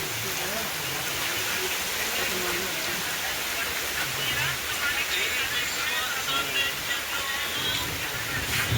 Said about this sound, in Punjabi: ਹੁਣ ਮੀਂਹ ਹੀ ਬਹੁਤ ਜ਼ਿਆਦਾ ਪੈਂਦਾ ਪਿਆ